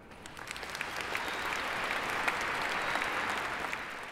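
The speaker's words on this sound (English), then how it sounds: "can you clap for me?" A conference audience at an INBOUND business talk answers with applause. The clapping swells from scattered hands into a steady wash of many people, moderately loud and without speech over it.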